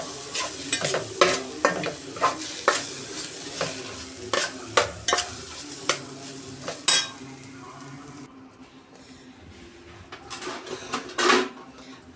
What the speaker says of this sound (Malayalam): ഒരു 2 മിനിറ്റ് അതും ഒന്ന് നല്ലതുപോലെ ഇളക്കി കൊടുക്കാം